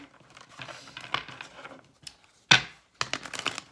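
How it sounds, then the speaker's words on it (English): Quick riffling and soft papery flicks from shuffled cards, close up, in bursts with a sharp snap midway and brief pauses between. "So we're gonna do a little bit more shuffling."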